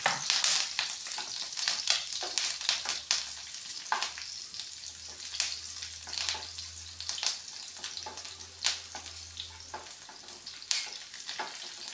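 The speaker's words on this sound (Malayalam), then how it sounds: "നമ്മളിപ്പോൾ ഈ എണ്ണയിലിട്ട് തന്നെ വറുത്തെടുക്കുന്നത്" Steady crackling sizzle of green chillies frying in hot oil, with occasional stirring scrapes, close up and continuous, no talking.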